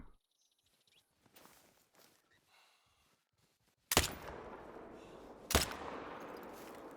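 Two loud, sharp rifle shots ring out in theHunter: Call of the Wild, fired at a sambar deer about a second and a half apart, each leaving a lingering echo after quiet footsteps and rustling.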